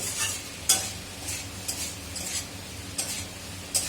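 Cooked pasta is stirred in a pan with soft sizzling underneath and several brisk scraping strokes of a spoon against the metal at irregular intervals; close, no talk.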